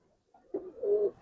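A single pigeon gives one short, close coo with a rising start and a sustained throaty roll, then falls quiet; the bird is a light-coloured breeder pigeon from one bloodline.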